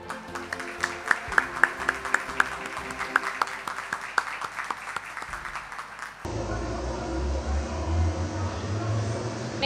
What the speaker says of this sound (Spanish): les pido a todos un fuerte aplauso